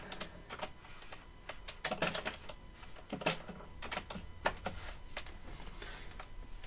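Quiet, irregular keystrokes on a computer keyboard come in short bursts with a few louder clacks between softer taps, close and alone with no voices.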